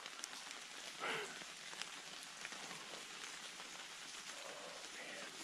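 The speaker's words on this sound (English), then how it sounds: "So much rain." Steady rain falls outdoors among rocks on a multi-day hiking loop, a soft continuous hiss of drops on surfaces with faint scattered patters and no voices.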